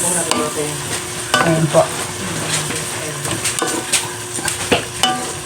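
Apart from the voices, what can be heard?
stirring and sautéing pork for dinuguan in a pan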